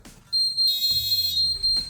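A flat's local fire alarm sounder blares a loud, continuous electronic tone that holds steady with no break after a short quiet start.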